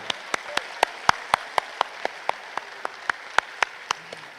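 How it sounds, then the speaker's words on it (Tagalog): Church congregation at a Quiapo Nazarene Traslacion mass clapping in steady, evenly spaced single claps, a sharp rhythmic beat over a low crowd murmur. "itaas ang kamay at pumalakpak ng mas malakas"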